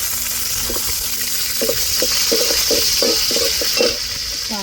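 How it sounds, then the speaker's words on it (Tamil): Crushed garlic frying in a hot pan gives a steady sizzle with short stirring clatters, fairly close and alone with no talk, at home on a rainy evening. "மிக்சியில் இடித்து எடுத்த பூண்டை சேர்த்துக்கிறோம்"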